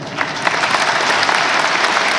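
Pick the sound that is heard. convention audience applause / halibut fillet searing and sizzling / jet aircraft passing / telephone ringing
convention audience applause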